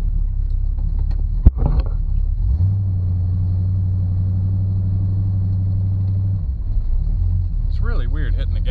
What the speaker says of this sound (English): It's really weird hitting the gas and having it flash so high.